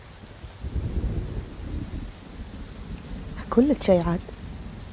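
A rumble of thunder rolls under steady rain and wind noise in a TV drama scene, low and sustained, while someone speaks briefly near the end.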